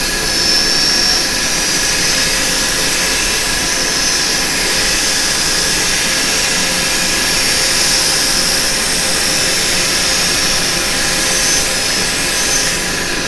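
A wood lathe spins a turned bowl while it is sanded with 180-grit paper, giving a loud, steady whirring roar with a high whine and sanding hiss that stays constant throughout, with no talking.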